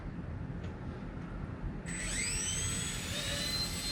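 A Blade 70 S micro RC helicopter's tiny rotor whirs up after quiet background hiss, a thin high whine rising in pitch and holding steady, close and fairly soft.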